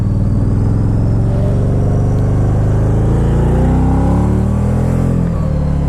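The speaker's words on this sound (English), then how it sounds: "Spin a bunch of tires." A Can-Am Spyder RT-S three-wheeler revs hard while spinning its tires, its engine roaring close and loud with rising and falling pitch throughout.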